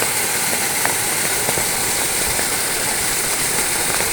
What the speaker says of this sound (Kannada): ಮೇಲಿಂದ ನೀರು ಹೇಗೆ ಬೀಳಕ್ಕೆ ಬರ್ತಾ ಇದೆ